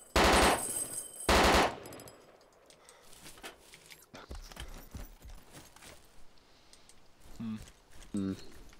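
Bursts of automatic gunfire in the survival game DayZ, two loud rapid volleys at the start followed by quieter distant shots and clatter, with a few more sharp bursts near the end.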